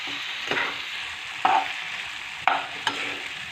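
Fried moringa drumsticks are stirred with mustard paste, turmeric and salt in a sizzling pan: a steady frying hiss broken by four distinct scraping strokes of the spoon.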